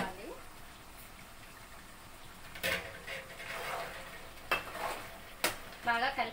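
Mutton curry is stirred in a pan, with intermittent scraping bursts and clinks of a spoon over a low simmering sizzle and a few faint voices.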